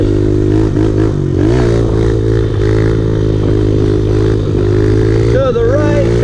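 A big bore pit bike engine drones loudly and close during a wheelie attempt, holding a steady rough tone with brief rises and dips in revs, with occasional scraping and clatter.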